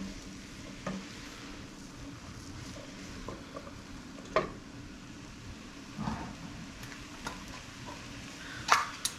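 Red, yellow and orange mini bell peppers sizzling in a pan, a quiet steady fry with occasional clicks and scrapes of stirring, a sharper knock near the end.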